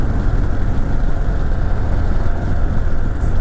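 A steady, low engine rumble with a subdued exhaust note from a 2023 Harley-Davidson Fat Boy 114 motorcycle, continuous and fairly close, with no voices.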